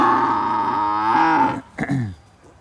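A young farm animal, newly arrived at a cowshed, gives a loud, drawn-out bellow close by, followed by a shorter, rising second call before it falls quiet.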